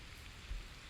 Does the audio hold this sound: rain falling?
yes